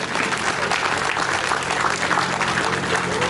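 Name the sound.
audience clapping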